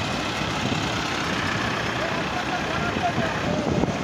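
A tractor-driven thresher runs steadily in a farm field, a loud constant mechanical roar and rumble with no breaks. A person talks faintly underneath.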